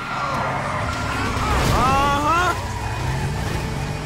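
A car in the game GTA V drives with a steady engine roar and road rumble, holding a constant loud drone with a brief rising whine in the middle, with no voices over it.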